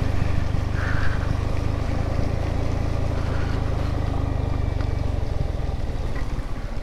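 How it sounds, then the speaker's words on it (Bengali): Motorcycle descending a steep, rough, muddy mountain slope on engine braking, a low steady engine drone with rhythmic pulsing and wind rush, close and loud, easing slightly toward the end. "পুরো ইঞ্জিন ব্রেকে নামতে হবে"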